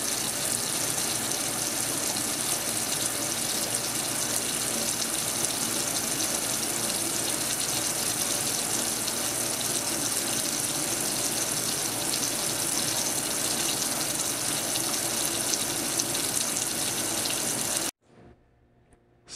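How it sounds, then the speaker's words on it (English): Water runs steadily from a sink tap while hands are rinsed, a constant close hiss and splash that continues unbroken for most of the clip, then cuts off abruptly near the end. "Rinse hands."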